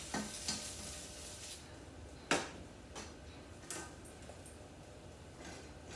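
A turkey burger sizzling and frying in a pan, a continuous close crackling hiss with a few sharp clicks and taps of a utensil against the pan, with no talking.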